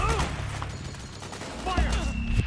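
Bursts of soldiers' gunfire in Metal Gear Solid 4: Guns of the Patriots crackle beneath shouted voices, rapid shots overlapping with yelling at the start and again near the end.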